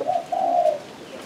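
A wild-caught spotted dove from Phú Yên gives one short, mellow, two-part coo, close and clear against faint background noise.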